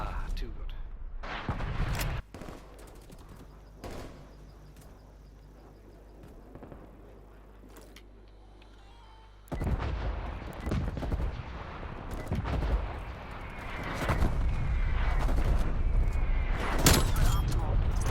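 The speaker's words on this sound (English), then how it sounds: "Incoming artillery" An incoming artillery strike in Call of Duty: Black Ops Cold War hits as a rapid barrage of loud, close blasts and gunfire, building into sustained heavy rumble over the second half.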